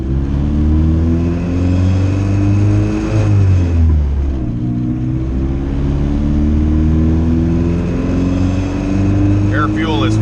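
Engine of a single-cam tuned car holds a steady cruise while its maps are adjusted with closed loop disabled. A loud, continuous, harmonic drone dips briefly midway before settling back to an even cruising note.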